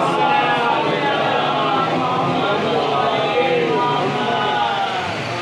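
A Muharram majlis congregation at an imambargah in Delhi loudly chants salawat in unison, a dense, continuous wall of many voices that is close and sustained throughout.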